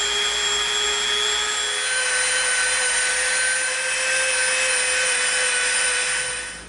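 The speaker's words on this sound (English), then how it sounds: "now we're going to come in with our Dremel" A Dremel rotary tool sands and rounds the edges of EVA foam armor pieces, producing a steady high-pitched whirring drone with a sanding hiss, close and continuous.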